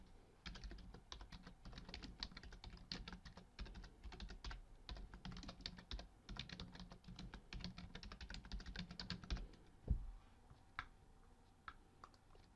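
Fingers type on a computer keyboard. A quiet, rapid run of key clicks continues for about nine seconds, then a single louder tap is followed by sparse clicks, with no voices.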